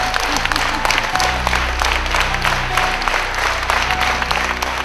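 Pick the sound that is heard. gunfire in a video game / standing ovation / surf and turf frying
standing ovation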